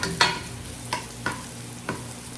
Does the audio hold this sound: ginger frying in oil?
yes